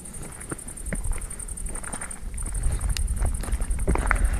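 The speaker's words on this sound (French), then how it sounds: "y a un peu de vent" Wind gusting outdoors near an abandoned village, steady rumbling buffeting on the microphone that grows stronger, with scattered faint knocks and rustles, no voices.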